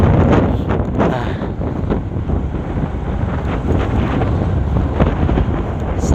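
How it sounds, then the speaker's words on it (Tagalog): Strong wind gusts across an open area under a darkening, dusty sky, a loud continuous roar buffeting the microphone for the whole stretch with no talk. "Wow, malakas talaga yung hangin."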